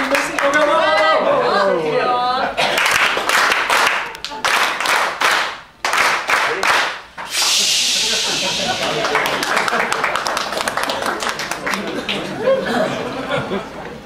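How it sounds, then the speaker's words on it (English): Wedding guests at a reception, a family among them, break into loud sustained clapping and cheering with laughter after a voice speaks, the applause rolling on close and full for several seconds. "we're going to give you a wedding cheer"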